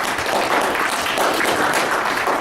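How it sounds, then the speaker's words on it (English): An audience at a tribal council candidate debate claps for the candidates, a dense, steady round of applause with no voices over it, holding evenly throughout. "give them a round of applause"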